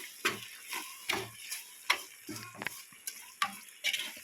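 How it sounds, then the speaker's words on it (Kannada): Tomato bath masala seasoned with sambar powder fries in a pan, its quiet sizzle broken by a regular series of spatula scrapes and taps roughly every half second. "ಈ ರೀತಿ ಕಲರ್ ಇದೆ ಚೆನ್ನಾಗಿ ಫ್ರೈ ಕೂಡ ಆಗ್ತಿದೆ"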